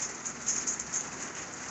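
Steady rain falls on a farm where a tractor is being driven out to spread straw with a manure spreader, a faint, even patter with soft hiss and no voices.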